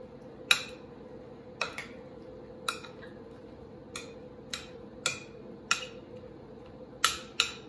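Pico de gallo salsa being stirred in a bowl, with a spoon tapping the bowl's rim in sharp, evenly spaced clinks over a soft background hum.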